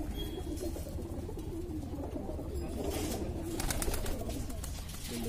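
Pigeons on a city rooftop coo softly in a low, steady murmur, with a burst of fluttering wingbeats as birds come down, the whole scene quiet and somewhat distant.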